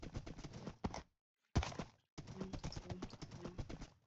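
Rapid clip-clop of horse hooves in a video game, a quick steady run of taps that breaks off into a brief silence and then resumes, fairly close and alone.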